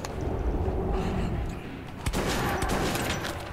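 Gunfire in Metro 2033 Redux, a burst of shots and a sharp blast around the midpoint over rumbling background noise, with a voice talking at times.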